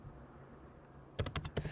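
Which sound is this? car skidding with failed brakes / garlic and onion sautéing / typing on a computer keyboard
typing on a computer keyboard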